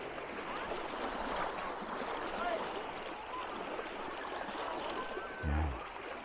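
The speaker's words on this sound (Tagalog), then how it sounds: "Yun yung pinakang ilog." River stream flowing in Bicol, a steady broadband rush of water with a soft gurgling texture, moderately close and continuous, with a brief low thump near the end.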